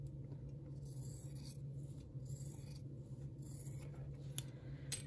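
Scissors trimming a quarter-inch fabric seam allowance on a Tall Pines quilt block, a few soft snipping and rubbing strokes in a quiet room over a low steady hum, faint and close.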